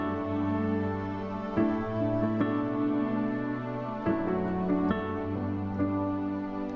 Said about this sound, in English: So we have a felt piano, we have a string sound called wispy violin, a string ensemble, and then a synth string sound.